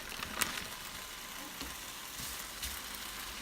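Turkey bacon frying on a griddle, six strips at a time, giving a faint, steady sizzle with a couple of soft scrapes or pops standing out.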